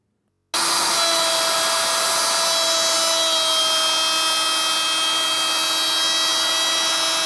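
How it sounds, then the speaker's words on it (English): A power router trims and cleans up the edges of refaced kitchen cabinets, starting abruptly and holding a loud, sustained high whine close by with no pauses. "what I'll do is I'll route this here first, and then I'll go all the way with it here."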